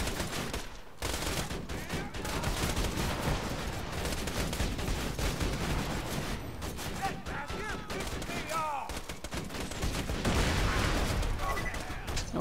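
Steady automated turret fire in Borderlands 2, a dense continuous rattle of shots running throughout amid other combat noise and speech.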